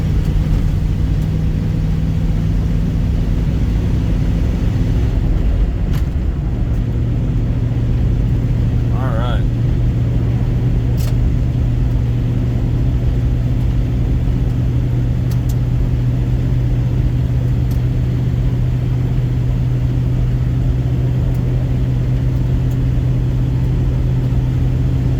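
A 1990 Dodge Ramcharger truck engine runs steadily while driving, a continuous loud low rumble that shifts pitch partway through as the transmission changes gear, with road and cabin noise throughout.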